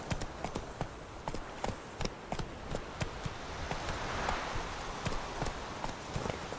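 Horse hooves galloping in The Witcher 3 video game, a steady rapid clip-clop rhythm of repeated sharp hoofbeats running throughout at moderate, close level.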